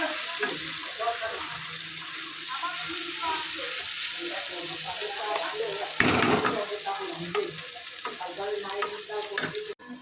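Black cumin seeds frying in hot oil crackle and sizzle steadily alongside stirring, with a sharper burst partway through and faint background sounds.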